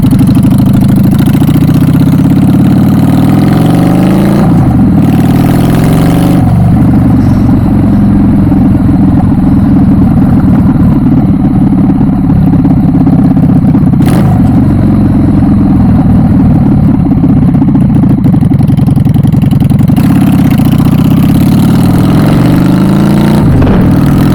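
A loud Honda Shadow motorcycle engine idles with a deep, rumbling throb that stays close and constant, broken by several sharp revs that swell and fall back.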